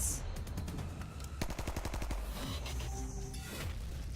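Rapid gunfire bursts from a PC shooter game trailer, a quick string of evenly spaced automatic shots over a steady background bed, fairly quiet overall with no talking.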